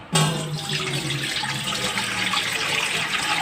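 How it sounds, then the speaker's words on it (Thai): Water gushes steadily into a large cooking pot from a tap, a close, continuous rushing splash that starts abruptly and keeps going. "เดี๋ยวใส่น้ำกันเลย"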